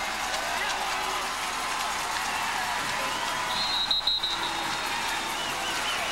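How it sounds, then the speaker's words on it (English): A high school football crowd roars and applauds continuously in a stadium as the game clock runs down, a dense wash of cheering heard from a distance with a faint whistle-like tone partway through. "the Evangel crowd applauded as the clock ran down to 0"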